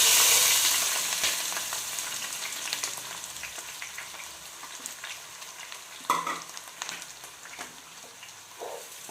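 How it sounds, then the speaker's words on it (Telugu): Chopped onions and green chillies fry in hot oil for a home-style Andhra mutton curry, giving a steady broadband sizzle with a few louder stirring clatters and scrapes near the end, close and without talk. "సో ఇది కొంచెం వేడెక్కాక ఆనియన్స్ ఇంకా పచ్చిమిర్చి వేసుకోవాలి."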